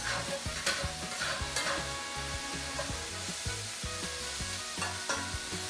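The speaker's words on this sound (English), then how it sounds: "Want to just keep cooking and stirring occasionally for 10 minutes." Fettuccine and zucchini cook in a pan with a steady soft sizzle, while a utensil stirs in frequent quick scrapes and taps.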